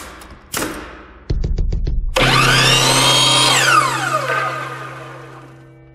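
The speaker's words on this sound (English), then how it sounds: "And then I've got some contouring to do with the sander." An old power sander shapes contours on a part of a 1965 Gibson guitar, starting with a few short bursts, then spinning up to a loud sustained whine whose pitch sweeps as it bites into the wood, close.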